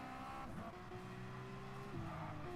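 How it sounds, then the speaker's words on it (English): Subaru and Porsche race cars in a racing video game, engines droning together at steady, shifting pitches as they corner, with faint tyre noise underneath. "Subaru getting out a little bit wide, so is the Porsche."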